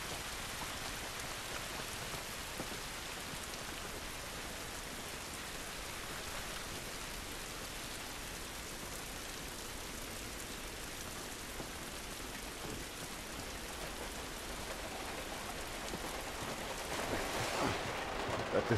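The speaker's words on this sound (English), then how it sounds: "This rain ain't gonna do us any good." Rain in the video game The Last of Us Remastered makes a continuous soft, even patter that stays faint and unbroken throughout.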